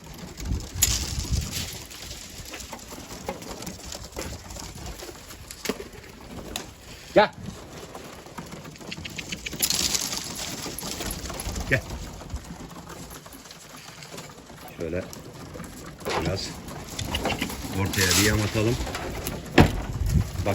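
Homing pigeons coo and flutter close by on a house rooftop amid steady background noise, with occasional bursts of wing sounds and a person talking intermittently.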